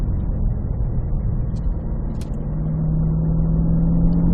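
Cadillac CT5-V Blackwing with a six-speed manual pulls hard in third gear on the Spring Mountain track in Pahrump, its engine a loud, steady, close roar that climbs gradually in pitch without a break, and no voices are heard.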